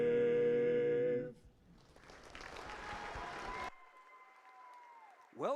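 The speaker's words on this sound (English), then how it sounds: "Well-deserved applause" A crowd at a girls' basketball tournament claps and cheers after the national anthem, a moderate burst of applause that follows the final sung note and fades under other sounds.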